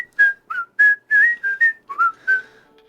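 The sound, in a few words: person whistling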